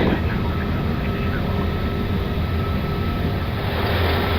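Fiji Airways airliner engines roar steadily during the takeoff roll, heard from inside the cockpit as a loud, continuous broadband rumble throughout, with no speech.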